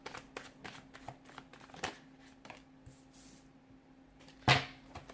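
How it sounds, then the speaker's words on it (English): Tarot cards shuffled by hand in a quiet room, a run of soft riffling flicks and slaps with one louder snap of the deck near the end. "give the cards a shuffle"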